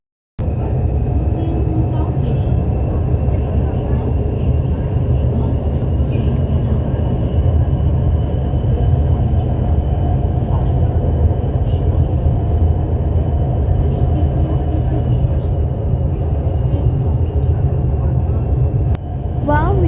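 Steady, loud interior rumble and hum of the Orange Line metro train in Lahore while riding, a constant drone with a faint high whine that runs the whole time, ending with a brief shift.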